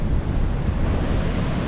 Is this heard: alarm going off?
no